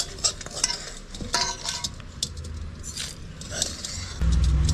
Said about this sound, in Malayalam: ഇതിപ്പോൾ വലിയ ജാറായതുകൊണ്ട് തന്നെ ഞാൻ മൊത്തം തേങ്ങ അതിലേക്ക് ഇട്ട് കൊടുക്കുവാ